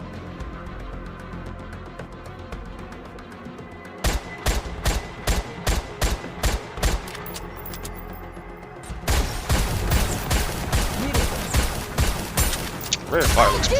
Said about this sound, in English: Rate of fire looks pretty slow, which doesn't make sense for it being a pistol.